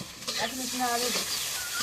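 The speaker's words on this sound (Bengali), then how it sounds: "এখন একটু নাড়া দিই।" Cauliflower, potato and eggplant being stirred in oil in a wok give a soft scraping and gentle sizzle over a couple of seconds, with a brief hum-like voice sound over the top.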